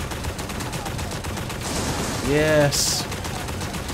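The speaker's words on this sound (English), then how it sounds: "Contessa with a machine gun" Rapid machine gun fire in the mech brawler game Override Mech City Brawl, a fast steady stream of shots running throughout, with a voice speaking briefly over it midway.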